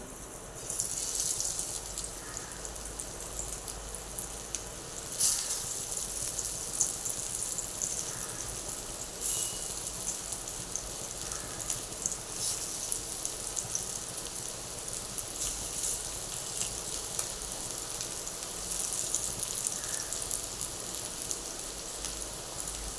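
Bangda mackerel fries in an oiled hot pan, a continuous crackling sizzle with scattered small pops that carries on steadily for over twenty seconds without any talk.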